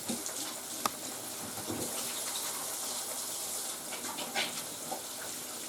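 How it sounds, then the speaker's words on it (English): Hands being washed under running tap water after handling fish, a steady close gush of water with small splashes and rubbing, no voices. "give my hands a quick wash"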